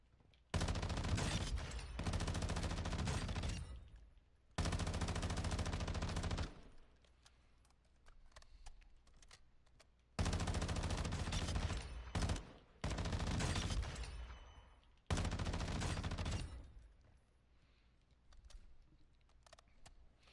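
Automatic weapon fire in the video game DMZ comes in several loud, sustained bursts separated by brief pauses, close and harsh, with no talking.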